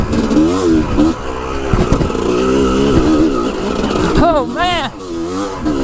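A dirt bike engine revs up sharply after slipping into neutral on a trail, loud and close, with a person exclaiming over it.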